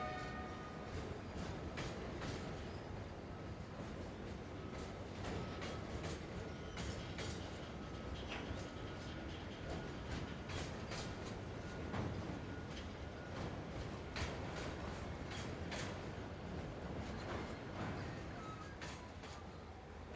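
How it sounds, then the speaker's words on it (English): An Adelaide Metro 4000 electric multiple unit rushes past at Kilburn while a group of NR locomotives shunt nearby, giving a steady, fairly distant rumble of wheels and rails with faint clacking that lasts throughout. "As an Adelaide-bound Metro 4000 EMU service rockets through Kilburn, a group of NRs begin to split and shunt 7DA2 out of the shunt main"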